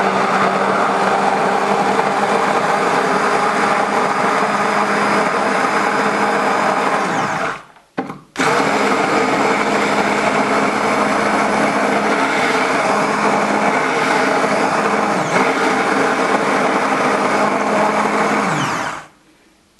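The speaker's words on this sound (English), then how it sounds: "Next step is I'm going to take my blender," A loud blender making a kefir shake with fruit whirs continuously, stops briefly for a moment, then roars on again at a steady pitch before cutting off.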